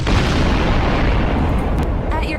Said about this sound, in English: firing my lasers! Hit.